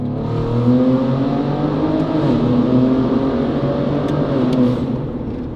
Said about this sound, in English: This is the 3-liter twin turbocharged V6.